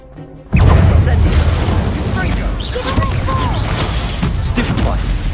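Incendio fire spell cast in the Hogwarts Legacy video game, a sudden loud burst that flares into a sustained roaring crackle of flames amid dense combat noise.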